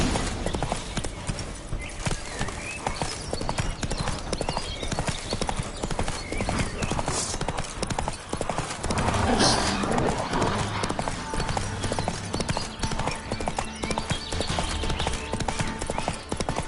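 Roach the horse clip-clops in a video game, steady rhythmic hoofbeats close and loud throughout, with a brief swell of other game sound midway.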